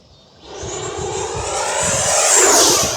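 A FMS Avanti 90mm RC jet on 6S lipo batteries takes off at full throttle. The ducted-fan whine swells from quiet to a loud, steady roar that climbs in pitch. No voices.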